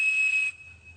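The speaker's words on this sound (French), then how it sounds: "Cet objet, c'est un sifflet Captain Crunch." A plastic Cap'n Crunch toy whistle from a cereal box is blown, giving a loud, pure, steady 2600 Hz tone for half a second before it drops to a faint lingering tail.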